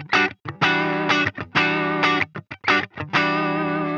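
Heavily distorted electric guitar chords through a Line 6 Pod Go with no compressor, played in choppy bursts with short gaps, raw and loud, the notes ringing thinly with little sustain.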